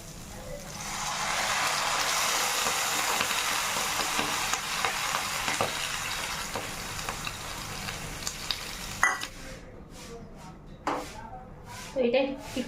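Water poured into a pan of frying rice for pilaf sets off a loud, steady sizzle that fades after about nine seconds, leaving quieter bubbling and a few scraping knocks of a utensil.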